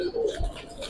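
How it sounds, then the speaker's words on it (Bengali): A brief coo from pigeons in a crowded cage holding about seventy birds, mostly females, a soft low burble close by with faint background noise. "অনেক কবুতর এই খাঁচার ভিতরে প্রায় 70-72 পিস কবুতর আছে"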